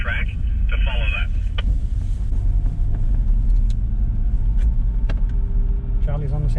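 A 4WD drives onto the soft sand of Stockton Beach, its engine rumbling steadily and close throughout, with someone talking over the drone and a few brief radio-like tones.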